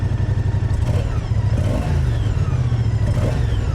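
A 2024 Moto Guzzi V100 Mandello S with its transverse V-twin engine runs close by, a steady, lumpy low rumble with rhythmic pulsing and slight swells, no talking over it.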